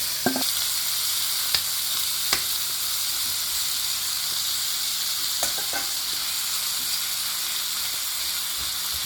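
Shrimp for fried rice fry in a pan with a steady, close sizzle and hiss, broken by a few sharp clicks and taps of a utensil against the pan.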